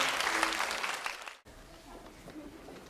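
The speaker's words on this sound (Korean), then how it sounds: "자 우리 상의를 위해서도 박수 한번 쳐주세요." Congregation applauding in a Catholic parish hall, a short burst of clapping that cuts off abruptly, followed by quieter room murmur.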